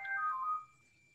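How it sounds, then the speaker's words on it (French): A telephone rings during an indoor interview about flower infusions, a single short electronic tone with a sustained pitch that fades out quickly, heard alone with no talking. "C'était le téléphone."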